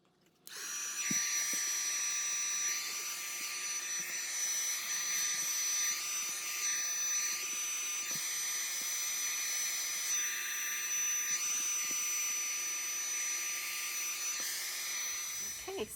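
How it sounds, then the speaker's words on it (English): A heat gun blows over glued book pages with a steady, high whining hum and airy rush that runs continuously for about fifteen seconds, fairly close, then clicks off. "I'm going to bring in my heat gun and just go over this side of the book where I did some pages"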